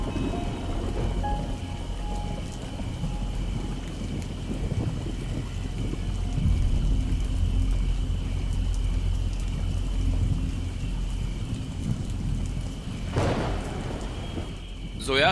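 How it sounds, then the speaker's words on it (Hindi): Steady heavy rain pours down continuously, with a low rumble beneath and a brief sharp burst near the end. "बारिश में भीग जाओगी।"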